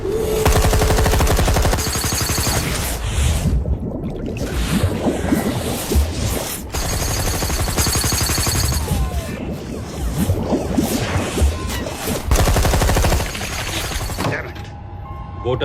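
Gunfire fired from boats into the water at night, dense rapid bursts like machine-gun fire, loud and sustained almost throughout with brief pauses.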